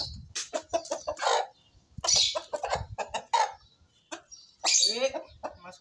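A rooster clucks in a series of short, throaty bursts that come in uneven clusters with brief pauses between them, fairly close and loud, with no talk over it.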